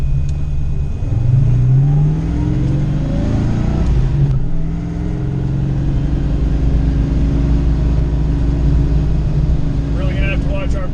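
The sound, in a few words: Foxbody Mustang with Clevor engine swap accelerating on track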